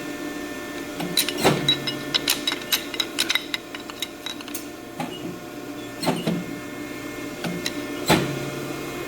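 A hand punch tool punches through a corner. It sounds as a series of sharp metallic clicks and clunks, with a few louder snaps standing out among lighter ratcheting taps, close by and with no voices.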